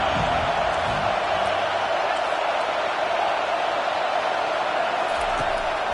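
Steady roar of a stadium crowd cheering during a college football video game, NCAA 25, on a third-down defensive play, a dense continuous wall of noise at constant loudness.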